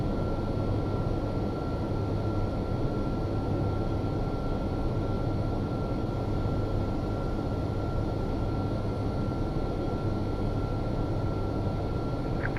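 An Airbus A350-900 climbs out after takeoff in a flight simulator, its engines producing a steady, even broadband roar with a faint constant whine and no voices.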